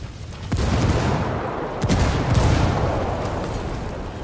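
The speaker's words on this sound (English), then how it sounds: "Frag out" In the Ghost Recon Wildlands shooter, a frag grenade detonates amid gunfire, sharp booms and cracking shots landing in quick succession over a dense rumbling battle background, loud and near, with no speech.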